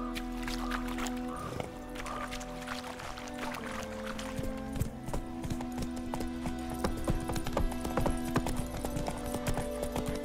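Hooves clip-clop in a steady, rapid rhythm as a horse gallops in The Witcher 3 video game, loud and close over a continuous layer of game ambience and music.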